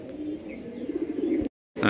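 Magnet pigeons, a flying breed, give soft low cooing close by, murmuring on and off for over a second before a brief silence and a louder burst.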